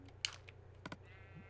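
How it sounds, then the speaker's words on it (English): Short, quiet bleats from a sheep in the Minecraft video game, a couple of brief calls over faint clicking and a low steady hum. "Now, you stay away, sheep."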